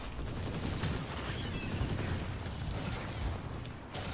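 Rapid gunfire from weapons in the FireFall shooter game, a continuous stream of dense bursts and mechanical clatter at steady moderate volume with no voice.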